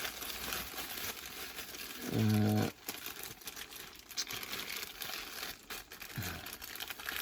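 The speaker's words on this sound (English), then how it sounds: "God, I hate these bloody plastic bags." A plastic bag being handled while unpacking a Realistic TRC-451 CB radio: close, crisp crinkling and rustling in uneven bursts, with a short louder buzzing hum partway through.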